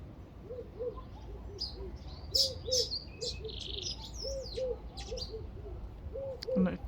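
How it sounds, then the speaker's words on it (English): Small birds, including a yellow weaver and an olive, chirp and tweet in a busy outdoor chorus, with repeated short calls overlapping steadily alongside higher trills and whistles throughout. "You can hear all the birds tweeting."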